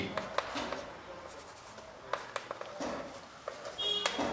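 Chalk or marker strokes on a board during a Class 10 coordinate geometry lesson, short scratchy scribbles in irregular bursts, close and fairly quiet, with some faint background noise.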